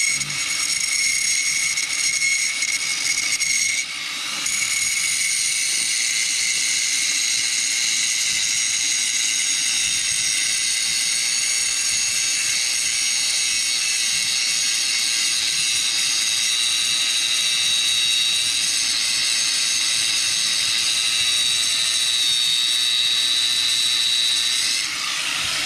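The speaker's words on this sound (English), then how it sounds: "The grinder just needs to spend a little bit more love on it." Angle grinder working on a Dana 60 axle for a 1974 Dodge W200, a sustained high-pitched whine running loud and continuous, briefly dipping once early on, with a faint low rumble underneath.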